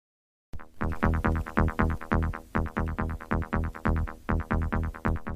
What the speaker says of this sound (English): This is the Belgian take on house, I guess.